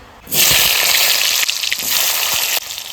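A sudden loud sizzle bursts up as potatoes hit hot oil, then keeps up a steady crackling hiss with a brief dip partway through.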